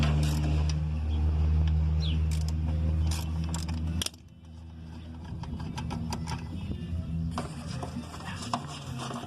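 Screws on a washing machine transmission being loosened with a half-inch socket, giving close mechanical ratcheting, creaks and metallic clicks over a steady low motor hum that drops away partway through.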